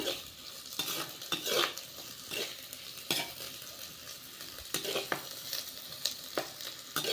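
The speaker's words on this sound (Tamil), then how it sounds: "பாருங்கள், இந்த மாதிரி நல்லா கிளறி விடுங்க." A utensil stirs tomato egg gravy with onions in a pan, scraping steadily against the metal over a soft sizzle, close and continuous with no talking.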